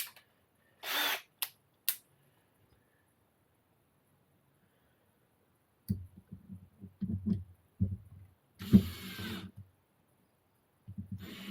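A power drill set to low torque drives screws into an oak door, giving a few short whirring bursts, then after a pause a run of rhythmic low clutch-ratcheting pulses, fairly close and with no talking.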